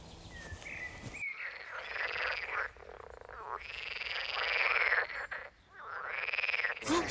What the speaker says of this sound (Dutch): ik hoor kikkers